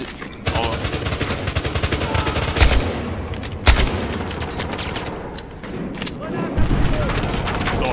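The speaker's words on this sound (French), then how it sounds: "Ça tire d'où là" Dense, loud gunfire from the video game Battlefield Hardline, with sustained automatic bursts, heavy booming shots and a chaotic battlefield wash continuing throughout, as players talk in French over it.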